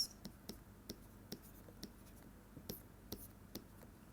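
Chalk or marker tapping and scratching on a lecture board, a series of short, quiet, irregular strokes and taps spaced about half a second apart in a hushed classroom.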